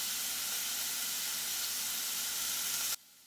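Zucchini sizzle steadily on a DeLonghi Perfecto indoor grill, a loud, even, close hiss of frying that cuts off abruptly near the end.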